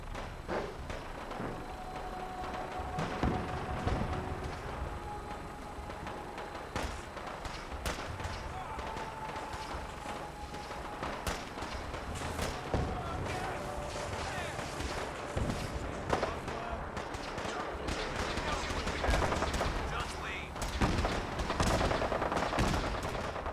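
Repeated gunfire in Fallout 4, sharp shots and bursts popping throughout with some rapid automatic volleys and heavy thuds, loud and dense, with a voice talking over parts of it.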